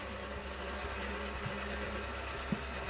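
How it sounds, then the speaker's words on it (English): A stand mixer fitted with a whisk attachment whips cream at low speed, producing a steady, even motor whir with a couple of faint knocks against the bowl. "And we got our whisk attachment on here. And we're gonna start slowly."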